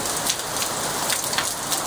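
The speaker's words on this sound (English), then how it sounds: "So I had no idea it was raining." Steady rain falls outside, a dense even hiss of drops pattering on surfaces with no voices, continuous and fairly close.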